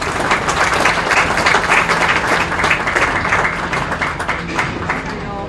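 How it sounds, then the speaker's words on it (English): A crowd at a county fair swine show gives a loud, sustained round of applause, dense clapping that holds steady and then thins slightly toward the end. "I think they deserve a round of applause."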